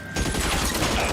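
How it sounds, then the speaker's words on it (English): A loud burst of rapid video game gunfire fills a shootout in LA Noire, starting after a brief quiet moment and continuing as a dense, unbroken volley. "Oh, I shot you in the head."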